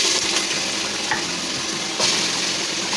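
Bottle gourd pieces tumble into a hot pan with ginger paste and spices, giving a steady close sizzle of frying with a few stirring scrapes.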